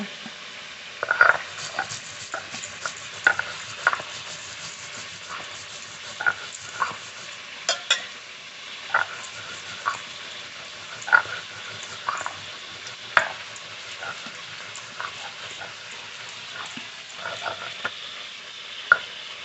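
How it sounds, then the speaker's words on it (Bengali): Ritha fish fry in hot oil with a steady, hissing sizzle, and sharp crackles and pops sound at irregular moments. "এই মাছগুলো খুব ভালো করে ভেজে নিয়েছি"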